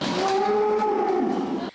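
One dairy cow on a large farm of 1,100 milking cows lets out a single long, close moo that stops abruptly.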